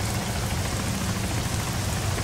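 Steady rain in the Arma 3 video game, a dense even patter of drops falling on surfaces, continuous and fairly soft throughout with no voices.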